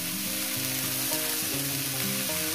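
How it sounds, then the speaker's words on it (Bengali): Mourala fish fries in oil with drumstick flowers and green chilies, a continuous hissing sizzle running steadily beneath louder background music. "এই যে কাঁচা লঙ্কাটা আর সজনে ফুলটা দিয়ে দিলাম, দিয়ে এটাকে ভাজবো।"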